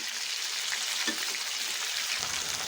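Chicken meat frying in a pan, giving a steady, dense hiss and sizzle throughout with a faint clink of stirring or turning partway through.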